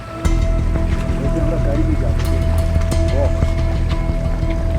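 Low, steady engine rumble of a boat moving on a river in the Sundarbans, with water wash and faint voices in the background throughout.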